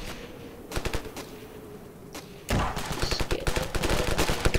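Gunfire in the video game Ravenfield: scattered single shots at first, then rapid automatic bursts of cracking reports, loud and continuous toward the end, with no talking.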